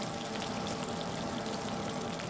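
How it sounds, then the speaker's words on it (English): Snapping shrimp make a dense underwater crackle of countless tiny snaps, like fat sizzling in a pan, constant and unbroken over a low rumble. "snapping shrimp sounds like bacon frying in a frying pan"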